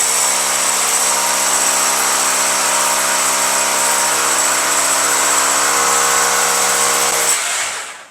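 Power drill boring into a home wall for an air conditioner installation, a loud, continuous high grinding whine held steady for about seven seconds before stopping abruptly.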